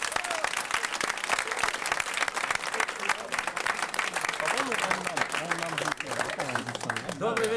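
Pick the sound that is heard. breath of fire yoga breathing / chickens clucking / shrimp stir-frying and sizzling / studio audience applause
studio audience applause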